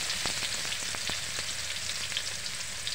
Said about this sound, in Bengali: সব পেঁয়াজ কুচিগুলো দেওয়া হয়ে গেল বেশি করে। এখন সেগুলো নাড়িয়ে নেওয়া হচ্ছে।